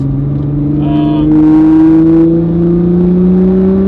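A Nissan GT-R sports car accelerates hard in a low gear on a canyon road, its engine note climbing steadily and loudly from close by, with a brief higher whine partway through.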